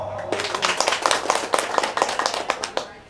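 A small group claps at an engagement ceremony, a brief round of distinct close handclaps in uneven rhythm with a voice faintly underneath.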